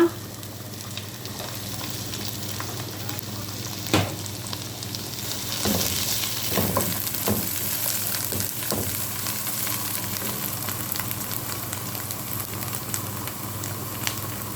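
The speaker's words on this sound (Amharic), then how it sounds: "ይኸው ሽንኩርታችን እንደዚህ ተቆላልቷል። አሁን ትንሽ ዘይት" Chopped onions frying in oil in a pan, a constant close sizzle with occasional stirring scrapes and louder crackles across the whole stretch, no talk.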